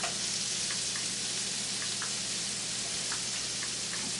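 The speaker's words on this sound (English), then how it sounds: "So I'm going to get my little spatula here, start stirring this stuff around." Sausages frying on a cast iron Lodge griddle, a soft continuous sizzle and crackle with faint scraping taps as a spatula stirs them around, fairly quiet and without speech.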